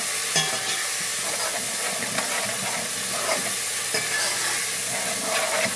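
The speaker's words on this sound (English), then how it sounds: "you want to give this a nice stir" Shrimp curry sizzling loudly in hot oil in a pot while being stirred, a continuous dense hiss and frying crackle with occasional scraping of the spoon, close up.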